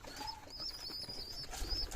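Pigeons at morning feeding time, faint soft coos with light flutters of wings, some thin chirps from young birds, all quiet and close by.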